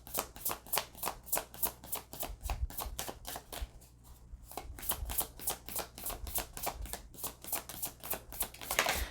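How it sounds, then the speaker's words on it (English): Oracle cards are shuffled by hand in a steady run of quick riffling flicks, close and fairly quiet, with a brief pause midway and no speech. "let's pull one of these oracle cards and see."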